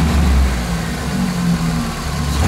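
A car engine idles steadily with a low, even rumble after a diesel-fuel flush for hydraulic valve lifter knocking, no lifter tapping heard, running alone without any revving.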